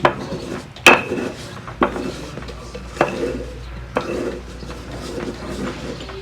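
A utensil stirs and scrapes chile ancho into a paste in a pan, with sharp clanks and knocks roughly once a second over softer scraping and a low background hum.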